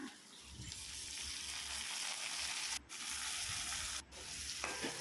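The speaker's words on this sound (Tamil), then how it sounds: "தக்காளி எண்ணெயிலேயே நல்லா பிரிஞ்சு நல்லா வேகட்டும்" Three chopped tomatoes fry in oil over sautéed onions for a Tamil sundakkai puli kuzhambu, giving a steady, loud sizzle with stirring scrapes. The hiss briefly drops twice before surging back.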